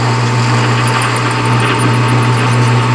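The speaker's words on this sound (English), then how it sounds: "So what I'm doing is taking a spade drill here and kind of drilling." A metal lathe turns as a spade drill bores a hole into the workpiece, giving a steady, continuous mechanical hum with a faint high whine that stays even for the whole stretch, with no talking.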